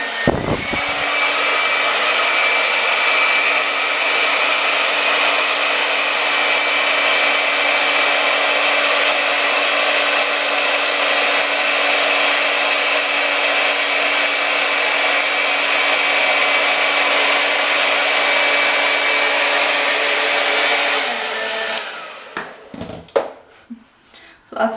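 A hot air brush blows on high setting while drying and smoothing hair, a loud steady whooshing roar held for about twenty seconds before it switches off and gives way to faint handling noises.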